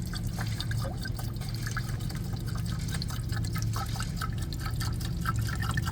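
Windshield washer fluid is poured into a car's reservoir, a soft, steady trickle and drip that runs continuously and stays fairly quiet over a low background hum.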